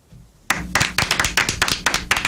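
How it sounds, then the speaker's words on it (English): People burst into clapping in a radio studio production meeting after a brief hush, a few hands slapping in an uneven, lively rhythm, close and fairly loud, with no voices over it. "everybody starts clapping."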